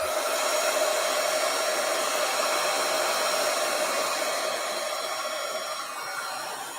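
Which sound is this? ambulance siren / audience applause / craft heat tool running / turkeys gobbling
craft heat tool running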